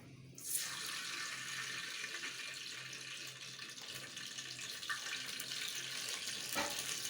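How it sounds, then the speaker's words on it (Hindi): A cup of cooking oil pours into a pan as a steady, soft liquid stream that starts abruptly and continues evenly for several seconds. "ये 1 कप मैं इसमें ऑयल डाल रही हूँ"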